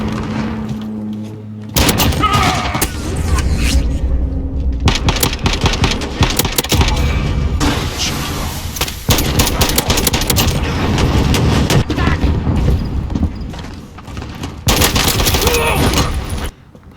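Call of Duty battle with an enemy precision airstrike: dense, loud bursts of gunfire and explosions rolling almost continuously, broken by short lulls, with a voice calling out over the din.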